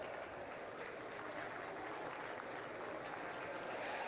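Audience applause fills a county fair livestock arena, a steady, even wash of many hands clapping heard from a distance at low volume, with no break.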